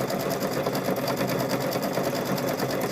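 A sewing machine stitches around a fabric microwave bowl koozie, running in a steady, continuous close-up whir of rapid needle strokes that holds at a constant level for the whole stretch, with no voices.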